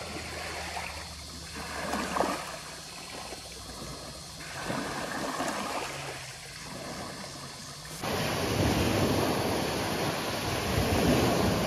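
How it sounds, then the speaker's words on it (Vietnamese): Big ocean waves and wind roll in at the shore at night during a wilderness fishing trip in the United States, a continuous rushing surf that swells louder and denser partway through. "Đến chiều sóng lớn quá trời."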